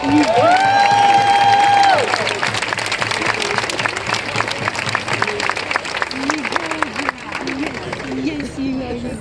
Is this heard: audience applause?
yes